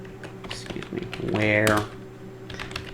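Someone types on a computer keyboard while configuring a Debian Linux email server, with a quick run of light key clicks and a brief stretch of voice in the middle.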